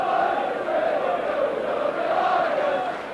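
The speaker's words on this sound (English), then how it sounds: "isn't it marvellous to see a crowd of this size at Headingley?" Large stadium crowd at a rugby league match at Headingley, a continuous broad roar and murmur of many spectators, steady and fairly loud for the whole stretch, with no clear talk over it.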